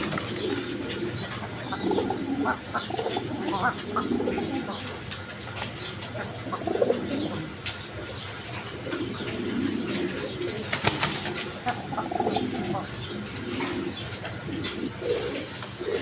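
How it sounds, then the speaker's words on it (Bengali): Pigeons coo in soft repeated bursts throughout a busy pigeon market, with occasional wing flaps, over a steady crowd murmur and people talking nearby. "একদম বিগ সাইজের কবুতর আছে।"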